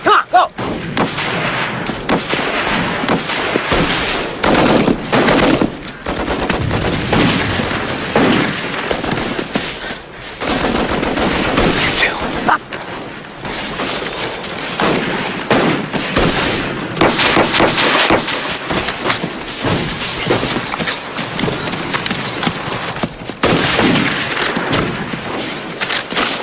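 Continuous battlefield gunfire and explosions from a World War I war-movie battle scene, with machine guns rattling amid heavy blasts. The loud, dense roar runs steadily for the whole stretch.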